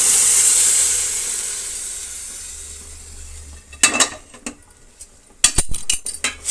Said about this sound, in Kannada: ಆಲೂಗಡ್ಡೆ, ಹೆಸರು ಕಾಳು 2 ಕೂಡ ಮಿಕ್ಸ್ ಮಾಡ್ತಾ ಇದ್ದೀನಿ